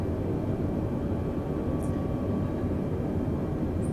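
Steady, continuous drone of a simulated airplane engine during a landing approach in the video game Microsoft Flight Simulator, a constant low rumble with a faint tonal hum, holding the same level throughout with no talk.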